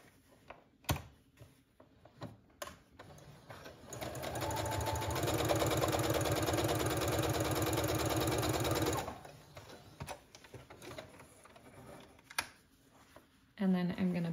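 Sewing machine basting the centre front edges of a denim jacket, running in one steady, continuous mechanical hum for about five seconds, with scattered quiet clicks and handling noise before and after.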